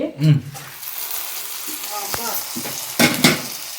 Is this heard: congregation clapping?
no